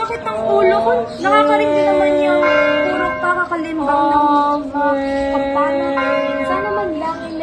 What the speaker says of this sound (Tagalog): Nakakarinig din naman yung puro kakakalimbang ng mga kampana.